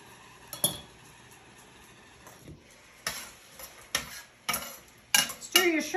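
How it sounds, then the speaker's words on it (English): Shrimp being stirred in a pan with a utensil, giving scattered scraping and clinking knocks of metal on the pan with a soft sizzle beneath, irregular and moderately close. "Stir your shrimp around a little bit"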